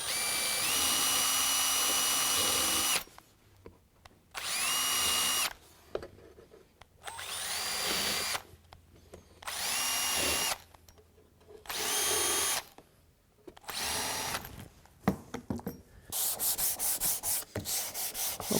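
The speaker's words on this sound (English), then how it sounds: "Now it's time to drill" A power drill bores screw holes into the wooden floor of a handmade jewelry box, whirring in several short bursts separated by quiet pauses, close and fairly loud.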